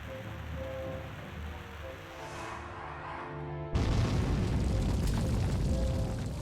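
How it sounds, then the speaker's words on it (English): Bomb blast in the role-playing game Dragon Quest 3 HD-2D Remake, a sudden loud rumbling burst that cuts in over quieter game music and holds as a dense roar. "Literal bomb."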